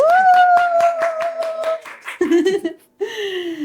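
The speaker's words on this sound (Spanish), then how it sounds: "Un aplauso para Sofi." A small group claps in a quick, steady rhythm to welcome a guest at the start of a podcast, while a sustained voice rings out over the claps and brief chatter follows.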